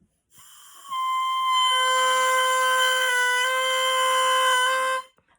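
A handmade double reed played alone, giving a single sustained crow, a steady buzzy tone with strong harmonics, held evenly for about four seconds at moderate loudness before stopping abruptly.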